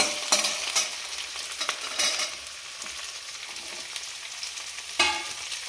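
Green vegetables frying in a pan give a steady close hiss and sizzle, broken by a few sharp scraping stirs near the start and one more toward the end, with no voices.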